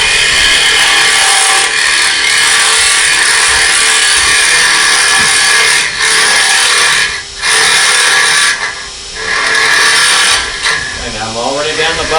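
Turning tool cutting wood on a lathe, a steady close scraping hiss of shavings being pulled out, with brief pauses and a fluttering chatter near the end as the cut changes.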